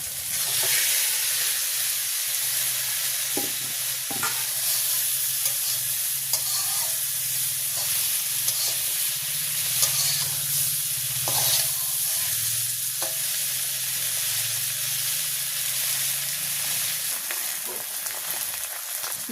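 Eggplant fries with duck egg in a pan of hot oil, a steady close sizzle running throughout, broken by occasional sharp scrapes and knocks of a utensil stirring.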